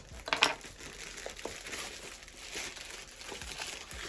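Plastic parcel bags crinkle while a postal parcel is unpacked, with a sharp rustling burst near the start and then softer, intermittent crackles and handling noises at close range, with no talking.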